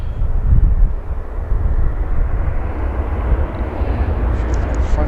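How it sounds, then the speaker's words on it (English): A Boeing 717 airliner roars past at an airport, a loud, steady, broadband jet rumble that stays strong throughout. "Boeing 717 from Detroit."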